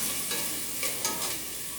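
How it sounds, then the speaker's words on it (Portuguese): An onion frying in a pan gives a steady close sizzle, with soft stirring scrapes and a few brighter crackles across the short stretch. "E a cebola tá fritando, olha lá, ó, a cebolinha tá fritando"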